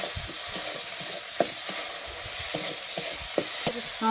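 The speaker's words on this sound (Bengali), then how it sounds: "বেশ খানিকক্ষণ আমি একটু নেড়ে নেব।" Tomatoes cook down in a pan for a vegetarian vegetable dish of potato, bottle gourd and wadi, with a soft frying sizzle and repeated scraping strokes of a stirring spatula, close and moderately quiet, no voices.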